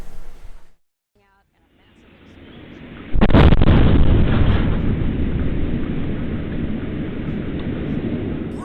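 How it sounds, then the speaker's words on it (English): A massive explosion at an oil refinery in the Grays Ferry area of Philadelphia in June 2019 hits after a brief silence with a sudden loud blast. A long, heavy roaring rumble follows and slowly fades. "So there was a massive explosion and fire at the refinery on June 21st, 2019."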